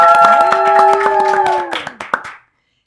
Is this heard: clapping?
yes